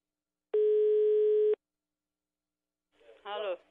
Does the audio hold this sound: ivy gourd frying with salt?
no